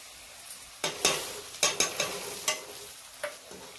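A spoon stirs and scrapes spices through hot oil in a pan for karhi, the soft sizzle running underneath as about eight scraping strokes come at an uneven rhythm.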